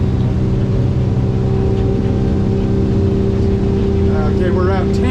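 A 2020 North River Fastback 22 boat's motor cruises at around 3,100 rpm, a loud, steady engine drone with constant water and wind rush, while someone talks over it.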